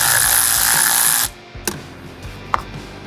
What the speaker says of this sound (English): Undo the 8mm bolt on your battery.